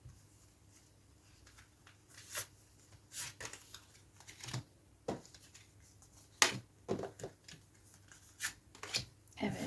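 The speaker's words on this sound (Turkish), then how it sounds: "Her bir deste için iki tane kart seçiyorum." Angel cards drawn from several decks during a tarot-style reading make soft, close rustles, slides and light taps in scattered bursts against a very quiet room.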